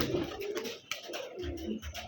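Pigeons on a pigeon farm coo in low, rolling calls, close by and continuous, with a few soft rustles in between.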